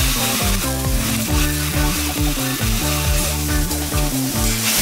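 Frame welding on a motorcycle frame welding line at a Kawasaki Motors Philippines plant: a loud, steady crackling and sizzling hiss with rhythmic pulsing, close up and continuous, with no talk.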